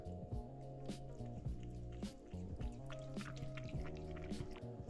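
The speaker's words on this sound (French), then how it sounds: "Je vais boire au robinet comme ça." Wet slurping and squishing of water being drunk straight from a tap close up, with drips and gulps in an irregular rhythm over a low background hum.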